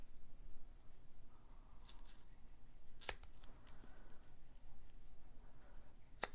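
Scissors snipping through card stock at a papercraft desk, a few short crisp cuts spaced apart with a quiet room tone between them.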